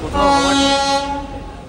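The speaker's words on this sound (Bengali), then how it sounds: "এই ট্রেন ছেড়ে দিয়েছে।" A loud train horn blares for about a second, then fades away.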